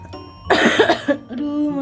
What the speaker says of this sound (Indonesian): Aduh, masih batuk.